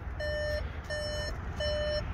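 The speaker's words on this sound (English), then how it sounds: "it's going to beep at me because the ignition is on but the car is off" Warning chime from a 2023 VW Atlas 3.6 SEL Premium R-Line 4Motion with ignition on and engine off, three evenly spaced steady beeps heard up close inside the cabin.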